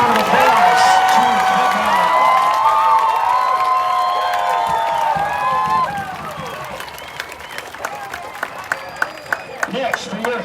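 Crowd cheering and applauding in the stands at a high school football game between the Satellite Scorpions and Viera Hawks, a loud sustained roar with shouts that thins after about six seconds into scattered claps and whoops.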